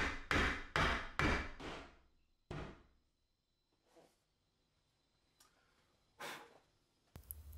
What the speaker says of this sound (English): to knock in the shelves, I use a rubber hammer